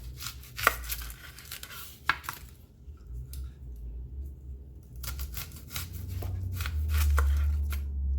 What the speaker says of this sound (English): We're just gonna go ahead and cut up the onion.